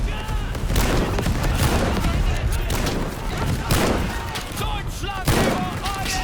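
Gunfire in the WWI video game Over The Top: a dense, continuous spatter of rifle shots and volleys, with voices talking over the steady battle noise throughout.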